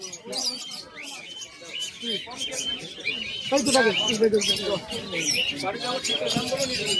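Pigeons coo and chirp close by amid a busy weekly market in Birnagar, with people talking loudly over the birds throughout.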